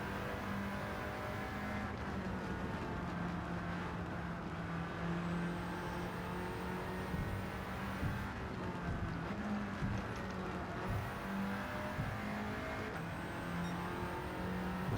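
An Audi TT racing in Gran Turismo 7 on the Tokyo Expressway, held in fourth gear: a continuous loud engine drone that rises and falls in pitch with acceleration and lifting, near and steady, without speech.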